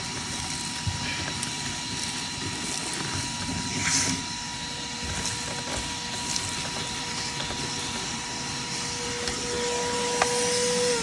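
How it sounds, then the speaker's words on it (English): A vacuum cleaner runs steadily inside a 1965 Ford Falcon during a clean-out, a constant whining drone with a steady tone, close and moderately loud, with small bumps and clunks of the nozzle against the car's floor. "Let's vacuum her up and see what we got."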